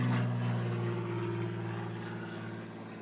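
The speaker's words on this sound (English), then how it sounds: "It's one of those noisy drones going over the top again." A noisy drone passes overhead at a junior cricket match on the Gold Coast, a steady loud propeller drone with a sustained buzzing hum that fades slightly as it moves on.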